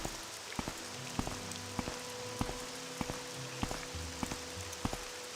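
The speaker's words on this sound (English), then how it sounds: "Doing this all in the rain, too." Steady rain pours in Morrowind (OpenMW), a dense continuous hiss with scattered sharper drop taps and faint footsteps throughout.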